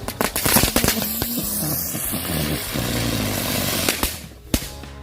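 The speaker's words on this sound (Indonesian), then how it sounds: "kita nyalain mercon bunga teratai 4 buah sekaligus. Ini akan berputar seperti gangsing." Four lotus flower firecrackers lit together at a New Year celebration, spinning like tops: a dense, crackling fizz with sharp pops for about four seconds, ending in a few loud bangs.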